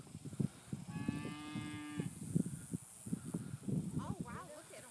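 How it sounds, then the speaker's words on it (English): A herd of cattle moos outdoors, with a long, clear low moo standing out above a busy background of shuffling, hoof noise and other animals, while people talk nearby. "Some cows came to join us."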